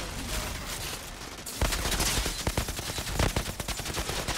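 Gunfight in the shooter video game Outriders, with dense bursts of rapid gunfire. A steady noise bed leads into a louder stretch of crackling, repeated shots that continues to the end.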